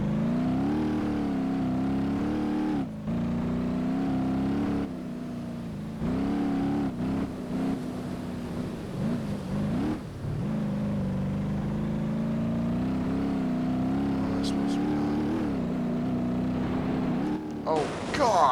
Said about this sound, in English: Oh, this little car's fast.